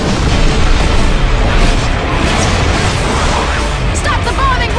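Heavy bombing explosions in Left 4 Dead 2, a dense, loud rumbling barrage of booms with crackling debris, continuous and close, with voices shouting over it.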